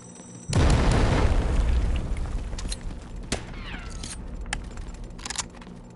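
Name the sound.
grenade explosion in video game Delta Force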